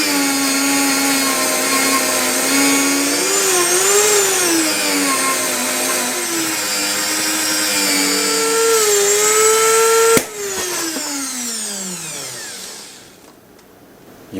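A rotary polishing machine fitted with a small brush polishes chrome parts from a Ford Mustang, whining loudly and steadily with wavering pitch, then a sharp crack as the motor spins down and fades.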